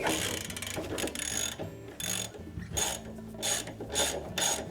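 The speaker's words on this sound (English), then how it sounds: "using the 15/16 socket, we're going to remove that retainer nut, and we're just going to give that a sharp snap with the ratchet" Ratchet with a 15/16 socket snaps a nylock retainer nut free from the drive pulley of a GE washing machine, giving repeated close metallic clicks and grinding pulls in uneven bursts, with no talk.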